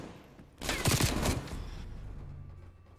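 A burst of rapid gunfire breaks out during a shootout in a gunfight tournament video game, a dense loud volley of about a second that then tails off into a lingering rumble.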